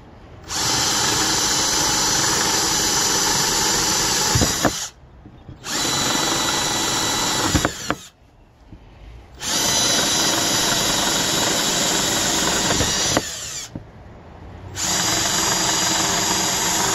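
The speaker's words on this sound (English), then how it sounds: "I'm going to go ahead and pre-drill some holes in it" A power drill whines loudly in long, steady runs while pre-drilling holes for a vertical balcony garden, three sustained bursts separated by short pauses, with a fourth starting at the end.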